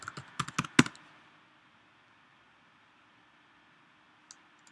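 Fingers type on a computer keyboard in a quick close burst of clacking keystrokes, then near silence follows before one more faint tap.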